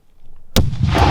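A grenade explodes during urban combat: a sudden loud blast breaks a short near-silence, and a rough, booming roar follows.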